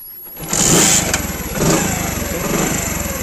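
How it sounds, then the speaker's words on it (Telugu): A hybrid motorcycle paired with a smart helmet starts up nearby, the engine catching with a sudden loud rise and a short rev before settling into a steady running hum. "ఇప్పుడైతే బైక్ అయితే స్టార్ట్ చేస్తాను."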